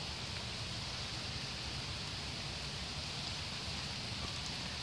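Soft, steady rainfall hisses evenly throughout, a faint, uniform wash of drops with no voices or other distinct sounds.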